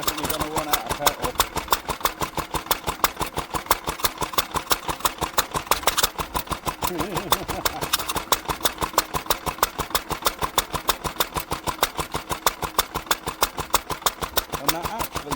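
An old Lister single-cylinder stationary engine, running on petrol with no exhaust fitted, chugs steadily with a rapid, even mechanical knock, close and continuous, while people talk over it.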